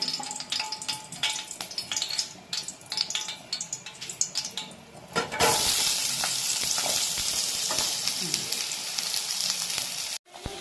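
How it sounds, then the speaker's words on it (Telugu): Onions frying in oil in a pan while cooking a dhaba-style masala egg curry: after a few seconds of quieter clatter, a loud, steady sizzle fills the rest of the clip, with faint stirring underneath and no voice. "ఆయిల్ పోసుకొని ప్యాన్లో ఆనియన్స్ ఫ్రై చేసుకోవాలండి"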